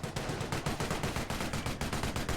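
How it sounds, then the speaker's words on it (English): Sustained machine gun fire in a Company of Heroes 1 match between British and Wehrmacht forces, with rapid, steady bursts of automatic shots repeating without pause, fairly loud and close, with no talking. "he got the machine gun now firing away"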